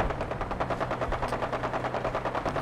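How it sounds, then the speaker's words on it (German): Rapid automatic gunfire from enemies in the video game Fallout 4, a steady stream of loud, closely spaced shots rattling on without pause. "Wo schießen die schon wieder?"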